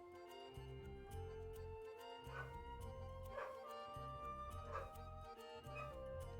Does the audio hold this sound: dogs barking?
yes